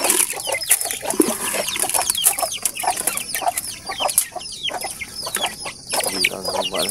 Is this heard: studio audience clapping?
no